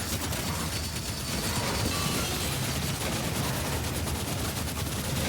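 Gunfire in Doom: The Dark Ages, loud and continuous rapid shooting that blasts through enemies without a pause.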